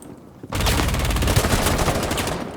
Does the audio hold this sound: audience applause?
no